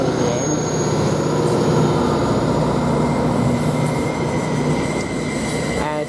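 A train rumbles steadily through Ely railway station, loud and continuous throughout, with a faint high squeal near the end.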